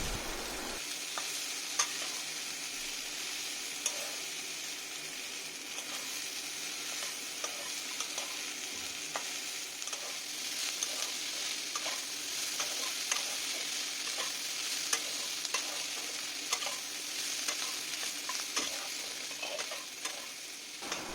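Figs and potatoes frying in a pan while being stirred, a steady soft sizzle with frequent scraping stir strokes throughout, close but fairly quiet, no talk.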